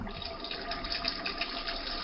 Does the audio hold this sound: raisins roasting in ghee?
no